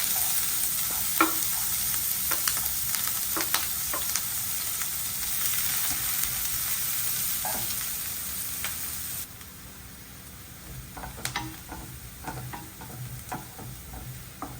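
Chopped onion sizzling and frying in hot oil with fennel seeds, for chicken kappa puttu, with steady close crackling throughout and occasional stirring clicks; the sizzle drops somewhat partway through.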